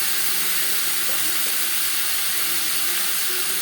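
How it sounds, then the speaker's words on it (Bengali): Sliced tomatoes go into a pan of frying mutton and potatoes for an aloo mutton curry, with a constant loud hissing sizzle of hot oil filling the clip without pause. "এর সাথেই দিয়ে দেবো 2টো টমেটো, যেটা আমি স্লাইস করে কেটে নিয়েছি।"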